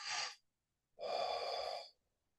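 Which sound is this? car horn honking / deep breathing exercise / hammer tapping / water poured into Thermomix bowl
deep breathing exercise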